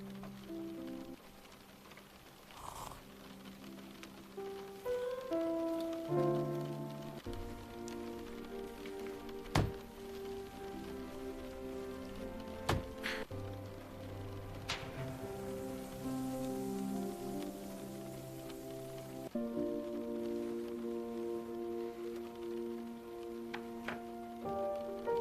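Soft, steady rain patters by a window on a quiet morning, faint and continuous, with gentle tonal notes drifting underneath.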